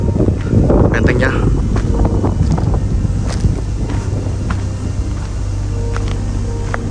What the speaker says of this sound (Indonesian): Maaf, anginnya agak kencang.